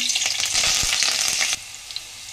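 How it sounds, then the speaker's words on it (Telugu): Green chillies and curry leaves frying in two tablespoons of hot oil in a pan give a loud, steady close sizzle with a few stirring clunks, then the hiss drops suddenly to a quieter crackle. "ఆయిల్ హీట్ అయ్యాక పచ్చిమిర్చి అండ్ కరివేపాకు అండి"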